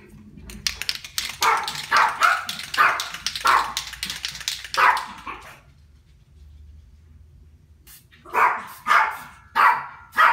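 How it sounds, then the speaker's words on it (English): A dog barks repeatedly nearby in a quick series, pauses in silence, then resumes with several sharper, louder barks. "That's my dog, Michael."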